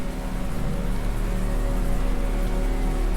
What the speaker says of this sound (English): Now it's sounding like there's rain.